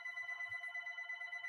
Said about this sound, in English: the darn phone keep going off all of a sudden